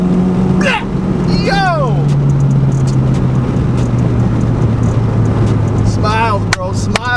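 Turbocharged 10th-gen Honda Civic Si with a 27WON W1 turbo upgrade, revving up hard in second gear: a steady engine drone rising and holding, with a shouted voice over it and whooshing chirps near the end.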